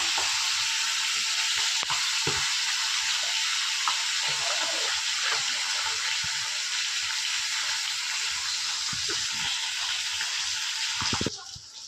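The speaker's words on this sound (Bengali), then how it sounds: "মাছগুলো ভাজা হয়ে গেছে, গোল্ডেন হয়ে গেছে" Fish heads fry in hot oil in a pan for a Bengali fish-head and cabbage dish, a loud, dense, continuous sizzle that stays steady throughout and cuts off abruptly at the very end.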